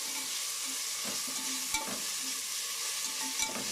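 Ginger garlic paste sautéing in a pan for soya bean biryani, a constant close sizzle with a few sharp spatula knocks against the pan as it is stirred, no voices.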